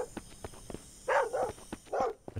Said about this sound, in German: Was bellst du denn schon wieder?